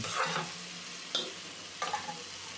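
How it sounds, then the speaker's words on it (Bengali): Potato curry cooking down in a pan, stirred and sautéed, gives a steady close sizzle broken by a few sharp spatula scrapes and clacks against the pan, with no voices. "এইভাবে আপনারা সবজিটা কষতে থাকবেন"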